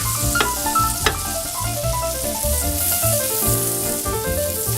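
A pat of butter melts in a frying pan for a grilled cheese sandwich, sizzling loudly and steadily up close, with a couple of sharp clicks near the start.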